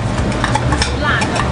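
Tomato, onion and chili bean paste stir-frying in hot oil in a large pot, giving a steady loud sizzle with scraping and stirring throughout.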